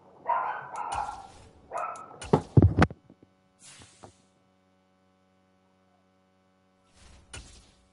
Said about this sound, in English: Let me go see what my dogs are barking at.